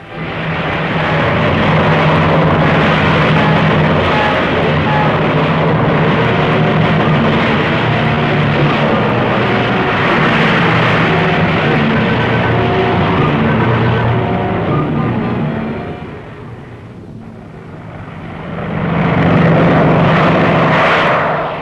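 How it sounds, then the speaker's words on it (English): Two heavy propeller engines of B-25 bombers roar steadily and loudly on takeoff for a long stretch, briefly dipping before surging back up again. "these B-25s took off in weather that wanted to wreck the world"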